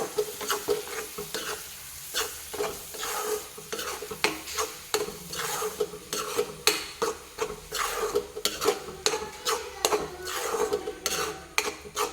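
Raw ground ivy gourd chutney fries in a pan while a spoon stirs it, producing a soft sizzle broken by repeated scraping strokes against the metal at an uneven rhythm.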